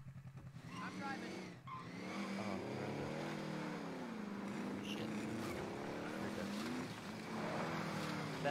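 Steady, loud car engine drone with rising and falling revs and tire noise while driving in Warzone, continuous throughout with a brief dip, players talking over it.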